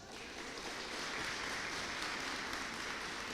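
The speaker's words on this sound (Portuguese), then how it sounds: "A salva de palmas, irmãos" A church congregation claps together during a Sunday service, a steady, dense wash of applause that stays even and fairly faint for a few seconds, with no voices over it.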